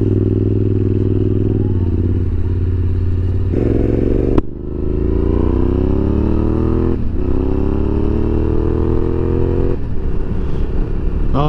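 Yamaha Tenere 700 motorcycle with CP2 engine and aftermarket exhaust, loud and close, idling then revving in repeated rising sweeps with short pauses and a sharp blip between pulls, no talk.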